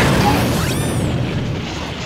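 A tank cannon fires in a TRON story recording and an explosion follows, heard as a loud, dense, sustained roaring blast with a falling whine through the middle of it.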